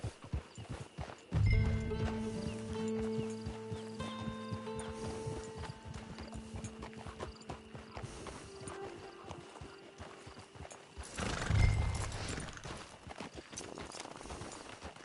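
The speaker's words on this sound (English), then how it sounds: "Get your horse." Horse hooves clip-clop at a steady walking rhythm in a video game, moderately close, with a brief whinny-like burst near the start and another swell later, over a faint musical bed.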